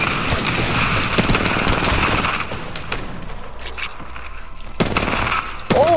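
Wingman pistol gunfire in the Apex Legends video game, a rapid run of sharp shots layered over busy game sounds, loud in the first seconds and then a few scattered later blasts.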